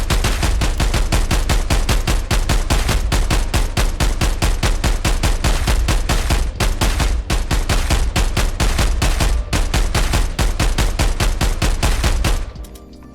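Semi-automatic fire from a rifle in the video game Contractors ExfilZone, a long, loud, fast and steady string of single shots close up, nearly evenly spaced, stopping just before the end with no talking.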